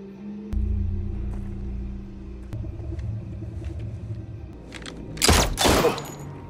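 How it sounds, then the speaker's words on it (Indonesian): Gunfire in a film scene: a low rumble and scattered thuds give way to two sharp, loud bursts of shots near the end. "Mendengar suara tembakan"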